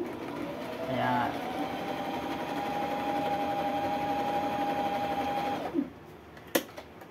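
Toyota Sewie 30 sewing machine stitching fabric with a steady whirring hum for about five seconds, then stopping, with a brief click and a sharp knock afterward; a voice speaks over the start.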